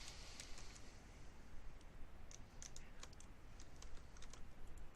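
Fast, light keystrokes on a computer keyboard patter steadily and continuously, close and fairly quiet, with no talking.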